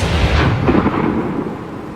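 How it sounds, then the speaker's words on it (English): Rocket League goal-explosion fireworks in a video game, blown out by a glitch that pushes their volume far past normal, form a loud, distorted rumbling roar of booming blasts that runs unbroken for the whole stretch with no talk. "there was a glitch that caused the firework volume to be set to like 100 times the original audio"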